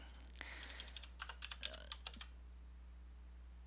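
Rapid typing on a computer keyboard while working in Emacs, a quick burst of crisp key clicks close up for about two seconds, then quiet over a low electrical hum.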